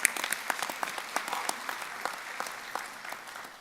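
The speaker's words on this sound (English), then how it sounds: "Let's give her a round of applause for all that she's done." Clapping from a commencement audience rises quickly, with individual sharp claps standing out in a loose, irregular patter over a thinner crowd wash that gradually softens.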